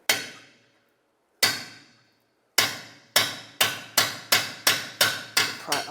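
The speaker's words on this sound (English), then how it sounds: "Use a punch and a hammer, drive the bolt through the rest of the way." Hammer strikes on a metal punch drive a bolt out of a rear shock absorber mount on a 2007-2010 Chrysler Sebring, starting with a few spaced blows, then speeding into a quick, steady run of loud, ringing hits.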